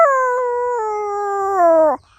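A man imitates a wolf's howl with one long, sustained, tonal call that slowly falls in pitch, close and loud, ending abruptly after about two seconds.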